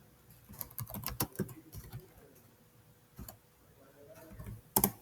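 Keywords are typed on a computer keyboard in quick bursts of crisp, close clicking keystrokes, then a pause, a short burst, another lull and a final clatter, with no voices.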